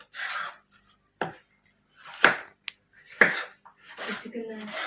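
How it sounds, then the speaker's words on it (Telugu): A knife chops a carrot into small pieces on a cutting board while vegetable pulao is prepared in a village kitchen, giving a few sharp, spaced knocks amid softer kitchen noise. "ఇప్పుడు క్యారెట్ కట్ చేసుకుంటున్నాను."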